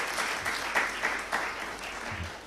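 An audience at an employers' conference in Uganda claps steadily, a dense, even wash of applause with a few louder swells, heard at moderate distance with no voices over it.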